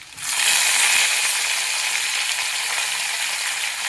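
Curry leaves, garlic and cumin sizzle loudly in hot oil, a dense, steady crackling hiss that flares up at once and holds strong throughout, with no voices over it.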